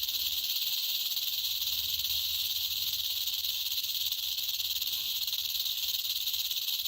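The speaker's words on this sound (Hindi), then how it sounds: "तो अब मैं आपको सुनाता हूँ रैटल की एक्चुअल आवाज।" A rattlesnake shakes the keratin rattle on its tail, a steady, continuous high buzzing hiss that holds unbroken at moderate level throughout with no other sounds.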